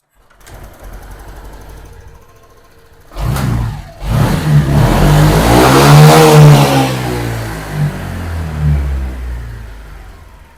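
A Honda PCX 150 scooter engine, just fitted with a new throttle position sensor, idles with a low buzz and then revs up loudly and smoothly, holding high before easing back down, close by.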